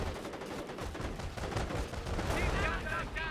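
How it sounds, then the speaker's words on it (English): A strafing run in the World War II strategy game Company of Heroes unleashes dense, continuous machine-gun fire with rumbling impacts, loud and sustained, ending with ringing ricochet-like whines. "Oh, strafing run there."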